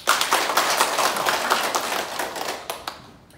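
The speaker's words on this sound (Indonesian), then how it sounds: "Kita tepuk tangan dulu." At a village gathering in Malaka welcoming visiting officials, a crowd claps loudly and briskly, then the applause thins to a few scattered claps and fades out at the end.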